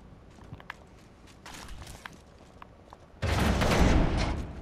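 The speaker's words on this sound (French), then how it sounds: "J'ai entendu des tirs." Gunfire in the battle royale game Apex Legends: soft footsteps and faint distant shots give way to a sudden loud, sustained burst of rapid automatic fire near the end.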